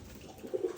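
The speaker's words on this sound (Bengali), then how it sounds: "এই হচ্ছে সেই কবুতরটি।" A young pigeon coos softly twice in quick succession, a low murmuring call near the end of an otherwise quiet stretch.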